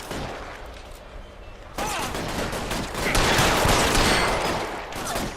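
Gunfire in the L.A. Noire video game: a quiet stretch, then loud bursts of rapid shots and ricochet-like cracks that build into dense overlapping fire, with faint voices mixed in.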